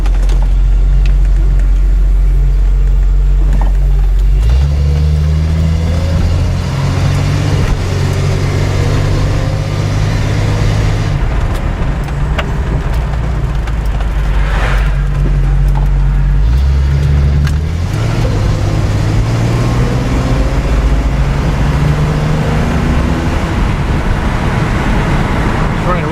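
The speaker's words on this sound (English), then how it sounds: "And the exhaust is blasting." A Datsun 280Z's exhaust roars steadily and loudly throughout as the car drives, the engine note rising and falling with gear changes of its 3-speed transmission.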